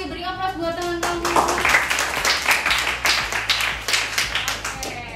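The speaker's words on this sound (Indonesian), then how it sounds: "Beri aplaus buat teman-teman" Classroom applause for classmates, a group clapping in an irregular burst of many hands, close and lively, with a voice speaking at the start over it.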